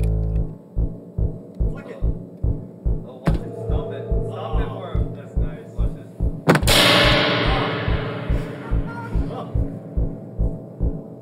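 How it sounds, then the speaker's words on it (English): A steady pulsing bass from a DIY modular synthesizer repeats in an even rhythm while sharp crashes burst in, one splashing into a long metallic spring reverb tail that slowly decays. "There's the spring reverb over here."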